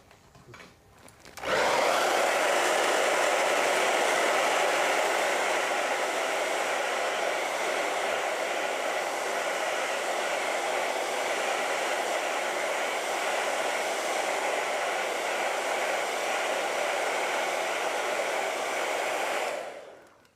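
A hair dryer switches on to blow a steady, loud whooshing roar over a freshly painted acrylic canvas, running continuously for about eighteen seconds before cutting off, with no talking over it.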